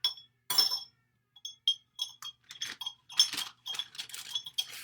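A spoon clinks against a glass while food coloring is stirred, sharp bright taps in uneven bursts, close and fairly clear over quiet.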